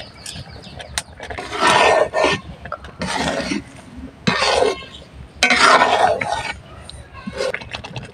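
Hand-cut semai being stirred in a pan, with repeated loud scraping and rasping strokes of a spatula against the metal in several long bursts, close up with no talking.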